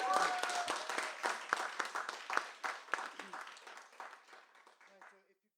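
An audience at a bookstore author reading claps in a burst of applause that starts strong and thins out into scattered claps before fading to silence, with a voice speaking over the start.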